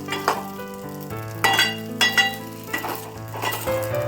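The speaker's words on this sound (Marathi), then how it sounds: "थोडेसे साबुदाणे परतले तुपात छान परतून घ्यायचे साबुदाणे" Sago pearls sizzle as they are fried in ghee in a pan, with a continuous soft crackle broken by several clinks and scrapes of a spoon stirring against the metal, close up and with no talking.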